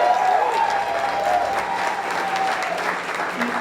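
Sustained audience applause at an evening preview event, a dense wash of clapping from a crowd filling the room, steady and loud for the whole stretch.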